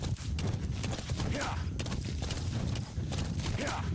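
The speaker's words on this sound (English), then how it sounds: "A lot easier with the horse to get up here." Horse hooves gallop in Metal Gear Solid V: The Phantom Pain, a steady rapid clip-clop running throughout at moderate level, with a brief gap near the three-second mark.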